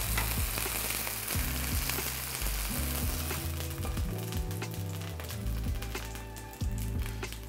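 Tofu pan-frying in a hot pan for tofu kimchi, a steady close sizzle with the scrape and knock of a utensil turning the pieces throughout.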